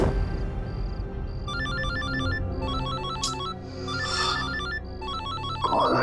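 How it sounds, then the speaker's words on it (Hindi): A phone ringtone sounds late at night from an unknown number, repeating a bright electronic melody of short beeping notes over a soft background. "नहीं, रात को 3:30 बजे भी अनजान नंबर से फोन।"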